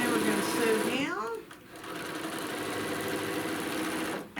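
A sewing machine stitches down layers of a quilt made from a panel, its steady mechanical whir running at moderate level. A brief pitch-sliding sweep and a short dip come partway through before the stitching hum resumes.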